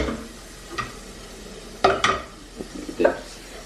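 Butter sizzles in a hot pan while a utensil stirs it, soft scraping strokes and clinks standing out in short bursts over a low frying hiss, close and without talk.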